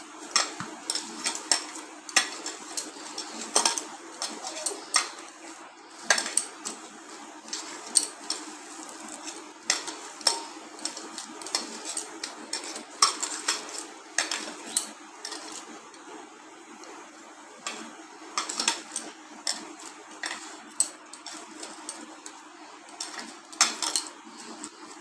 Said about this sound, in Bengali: আমি ময়দা সুজি দিয়ে একটু মাখিয়ে নেব